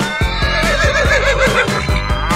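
A horse whinnies in one long, loud, wavering neigh that rises and falls in pitch, heard up close with no talking.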